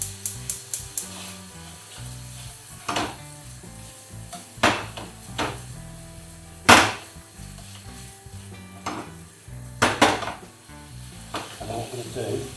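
Onions begin cooking in a pan for a homemade steak and onion pie. A faint sizzle runs under scattered sharp clanks and scrapes of utensils against cookware, with a louder metallic knock midway.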